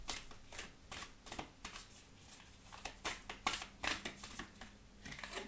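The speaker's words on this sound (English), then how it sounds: "I'm going to pull out an oracle card as well." Oracle cards are shuffled by hand in quick, rhythmic riffling bursts, soft and close, repeated steadily with no talking.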